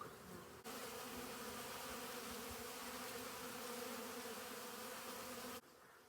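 Honey bees in winter hives hum in a steady, dense, low drone heard up close, starting and stopping abruptly.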